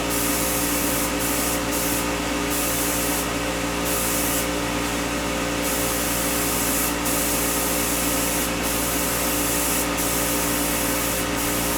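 Steady broadband hiss of a spray gun painting models inside a spray booth, with a constant booth fan hum behind it and brief bursts of heavier spraying, no voices.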